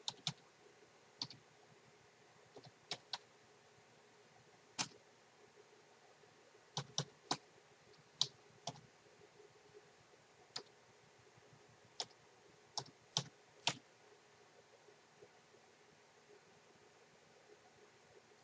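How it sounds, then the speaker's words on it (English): Sharp, irregular key clicks from typing on a computer keyboard, in scattered bursts over a quiet hiss, fairly faint and close with no talk. "you have to type that in"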